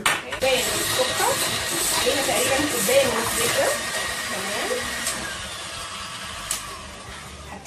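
An electric mixer whirs steadily as it beats butter and sugar for chocolate cupcakes, a close, noisy hiss-laden drone with small clicks, easing off near the end.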